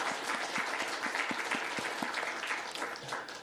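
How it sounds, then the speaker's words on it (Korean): Congregation applauding in a church service, a steady wash of many hands clapping at moderate distance, continuous for several seconds without talk. "우리 박수로 한번"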